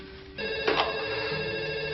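A telephone rings in a domestic setting, a steady electronic ringtone with a brighter burst early on, fairly close and clear with no talk over it.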